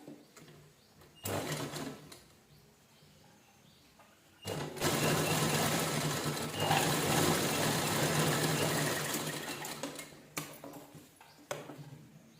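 A sewing machine stitches the turned neckline of an unlined princess blouse with a leaf-shaped front neck, set with canvas. It runs in a short burst, pauses, then whirs steadily for about six seconds before stopping, close and clear.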